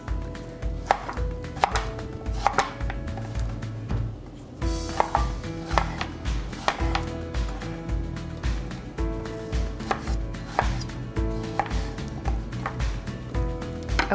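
A knife chops large strawberries on a cutting board in quick, uneven bursts of close, crisp taps, with a brief pause partway through.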